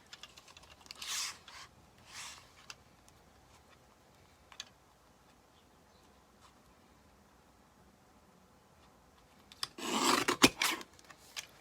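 Paper cutting for a handmade card: designer series paper being trimmed, heard as a few soft, faint rasping strokes early on and a louder burst of cutting near the end, with quiet stretches between.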